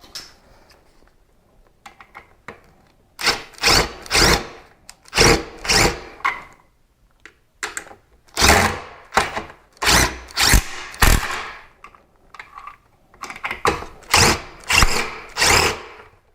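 A power drill drives screws into a ceiling fan during installation, with repeated short bursts of whirring spin separated by pauses, close and fairly loud.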